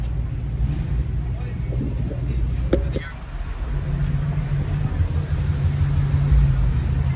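A Jeep engine rumbling steadily at a cars-and-coffee meet, a low continuous drone that swells slightly as the vehicle pulls away, with a brief higher click partway through.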